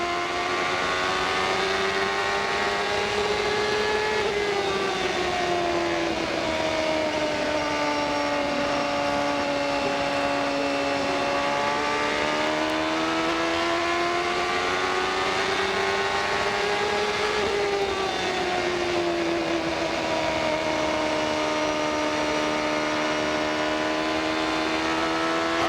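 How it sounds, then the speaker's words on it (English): Onboard a CART Indy race car at speed on the Milwaukee Mile in 1996, a loud, continuous high-revving engine scream rises and falls in pitch through the laps, with no talk. "Now let's just ride here on board Robbie Gordon. Let's ride and watch the wonders of the mile"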